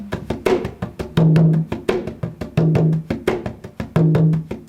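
Hand drums play a lively syncopated groove, crisp slaps mixed with low ringing tones in a repeating cycle.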